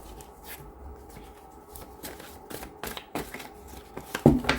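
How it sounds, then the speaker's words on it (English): Tarot cards being shuffled by hand give soft, irregular riffles and taps at close range, ending in a sharper burst of card noise. "I'm going to shuffle these 3 times, take the 10 cards on top"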